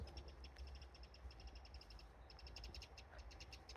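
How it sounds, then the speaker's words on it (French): A bird calls repeatedly outdoors in nature, rapid rhythmic chirping bursts at moderate distance, faint over a low rumbling background of wind and ambient noise. "Vous entendez l'oiseau là?"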